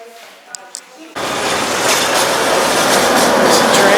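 A small metro train passes through town, starting abruptly after a quiet moment with a few faint clinks, then a loud, steady rumble of rolling wheels and rail noise that holds to the end.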